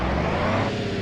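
A big-rig semi truck engine in the BeamNG Drive driving game gives a loud, steady low rumble with a broad whirring drone and no talk over it.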